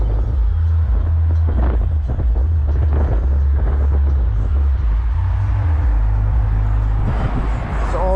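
Deep, steady bass booms from a Phoenix Gold Z212ABV2 subwoofer inside a 2019 Mercedes GLE, a loud continuous low rumble that fills the cabin throughout, with faint sounds layered over it.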